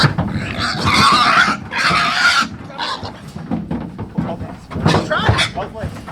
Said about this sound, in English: someone's stealing my pig.